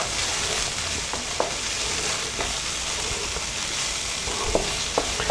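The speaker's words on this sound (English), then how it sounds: "I'm going to let the tomato puree cook for a little bit" Tomato puree cooking in a pan for a chicken spaghetti sauce gives a steady, close, even sizzle and bubble, with occasional faint stirring taps and no talk.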